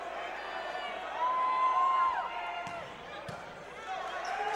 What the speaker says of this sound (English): Very vocal crowd